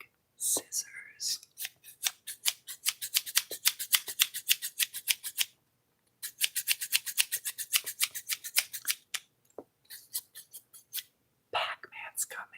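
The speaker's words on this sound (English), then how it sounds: "Big scissors." Big scissors snip again and again in quick rhythmic bursts of crisp metallic cutting, close and fairly loud, with pauses between runs and soft talking.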